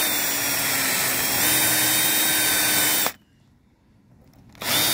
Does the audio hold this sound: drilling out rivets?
yes